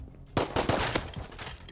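Gunfire in the game Rust: a quick burst of several sharp, close shots fired in rapid succession within under two seconds.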